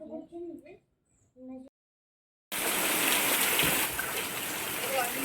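Light rain falls in a village, a steady soft hiss that starts suddenly after a few seconds of voices talking and a brief silence, with no distinct thunder.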